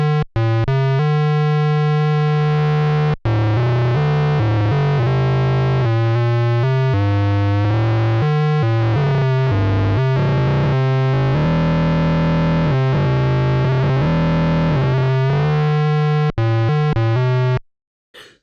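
An emulated Atari Pokey sound chip plays one tone modulated by a second tone, producing buzzy, harmonically rich synth notes that step through changing pitches for most of the stretch before cutting off.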